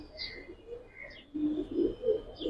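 Giribaz and colouring pigeons in a loft coo in low, repeated throaty calls that grow louder in the second half, with a few higher chirps at the start and near the end.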